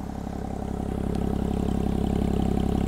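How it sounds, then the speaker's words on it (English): A Porsche Cayman 987 S with a loud aftermarket exhaust idling, a deep, throbbing exhaust note that rises slightly in level, close by and steady, with no talking. "And this exhaust, look at it. Listen to that."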